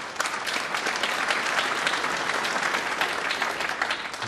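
Steady applause from a snooker audience at the 2018 Champion of Champions match between O'Sullivan and Higgins, dense clapping filling the hall at an even level throughout, with no voices over it.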